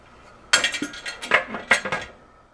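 Reusable canning lids being set onto glass jars of red beans, a quick cluster of close, bright clinks and taps of lids against jar rims and metal, about eight hits in two seconds, with no talking.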